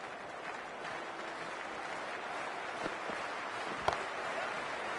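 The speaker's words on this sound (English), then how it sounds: "already the crowd is up and about" In-game crowd applause from Cricket 24 before an India vs South Africa T20 match starts, a steady wash of distant clapping with a few louder pops, no talk over it.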